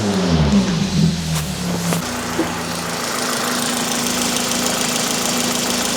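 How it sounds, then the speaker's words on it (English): A 2005 Toyota Celica VVTL-i GT engine is revved twice. It climbs and falls back over the first couple of seconds, then settles into a steady, slightly rough idle. "Now I'm gonna give it a couple of revs."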